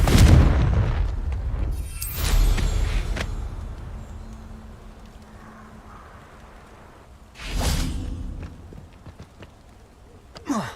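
Confringo spell cast in Hogwarts Legacy: a couple of sharp, booming blasts with crackling tails, the strongest near the start and another around the middle, separated by quieter ambient game sound.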